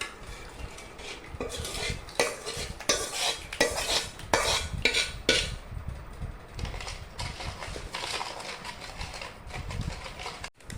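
Soaked semolina and sugar being stirred into strained syrup in a metal pot for taler bora batter, a steady run of close spoon scrapes and clinks against the pot with wet sloshing, no talking.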